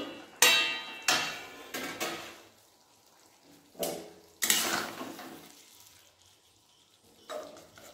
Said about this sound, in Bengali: এরপর ঢাকা খুলে নেব।